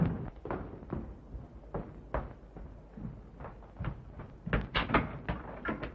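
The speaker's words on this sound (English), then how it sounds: "Quick, Joseph, open the door" A door in a 1933 pre-code Hollywood film scene is handled with a cluster of knocks, thumps and latch rattles, moderately close, with irregular bumps over six seconds.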